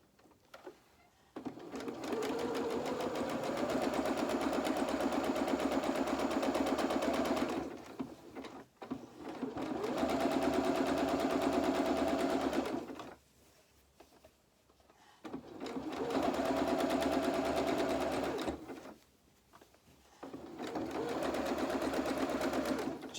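A sewing machine stitches fabric in four long, steady runs of rapid mechanical whirring, separated by brief pauses, close and moderately loud, with a voice talking quietly at times.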